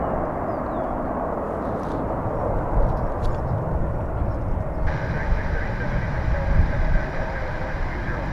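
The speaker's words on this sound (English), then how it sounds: "got our MD-11 turning here" An MD-11 airliner taxiing and turning at Dallas/Fort Worth Airport on a cold winter day, a steady broadband jet engine roar from a moderate distance, with a higher whine joining partway through.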